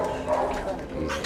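A nervous dog at a rescue centre gives soft, brief whimpers and yips, close by and mixed with low background voices and movement.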